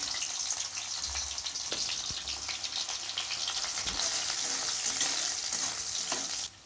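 Steady crackling sizzle of chopped garlic frying in hot oil with cumin, close and continuous, with occasional scraping stirs and a low hum underneath.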